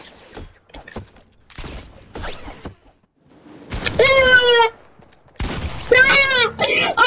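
Shotgun blasts in a shooting video game called Shotgun Wars, two loud bursts with metallic racking, following a stretch of talk.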